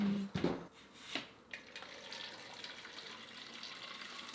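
Tap water runs into a water bottle, a steady hissing trickle that starts after a couple of brief knocks and continues quietly to the end, with no one speaking.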